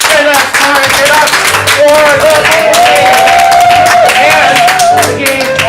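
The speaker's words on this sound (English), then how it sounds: "Keep the applause going" Audience applause and clapping at a live improv comedy show by CSz Portland, loud and sustained throughout, with crowd noise and a host's voice calling out over it.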